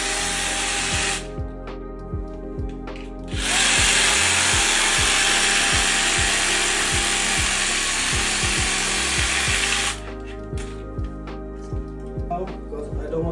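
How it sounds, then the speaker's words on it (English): A reciprocating saw cuts through a toilet flange at floor level, a close, loud rasping buzz with rapid back-and-forth strokes, pausing briefly between bursts before resuming. "I'm gonna get the sawzall and I'm gonna cut it out."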